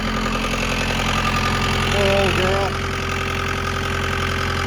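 A vehicle engine idles in bitter polar-vortex cold, warming up after starting without a block heater. A steady, even drone runs throughout while a voice speaks briefly over it.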